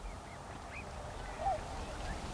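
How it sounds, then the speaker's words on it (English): A few faint, short shoveler duck calls over a low background rumble, soft and somewhat distant. "A few shoveler ducks joined them."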